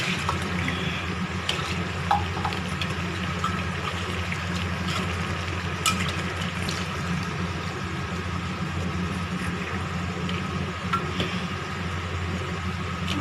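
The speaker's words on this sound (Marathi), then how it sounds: "आणि आता पाणी टाकूया।" Water pours into a pressure cooker holding garlic, turmeric and salt for a Marathi chakvat leafy-greens dish, a steady rushing stream that runs for several seconds over a low kitchen hum.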